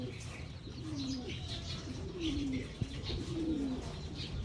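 Pigeons cooing in a loft before dawn, with three slow, soft rolling coos spaced about a second apart over a dense, muffled background of other birds and low murmuring.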